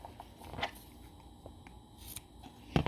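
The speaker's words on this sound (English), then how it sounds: "For all my thin ribbons, I like to cut at an angle" Scissors snipping thin ribbon at an angle for a small Valentine's Day wreath, giving a few faint, quick cuts with a sharper snip near the end, close by in a quiet room.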